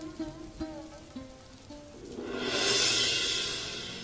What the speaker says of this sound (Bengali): বৃষ্টি যে শুরু হলো